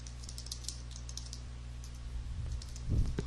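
Text typed on a computer keyboard, with a steady run of light clicking keystrokes and a few heavier clacks near the end, heard close and alone.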